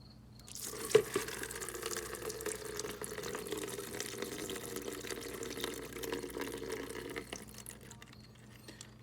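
Antifreeze water drains from a loosened bolt on a 1986 Yamaha YZ 80 dirt bike, a steady close trickle and splash running for several seconds after a brief knock, then tapering off.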